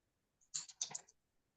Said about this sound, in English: I'm typing very slow